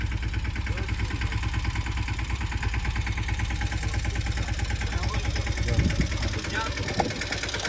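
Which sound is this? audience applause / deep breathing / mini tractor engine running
mini tractor engine running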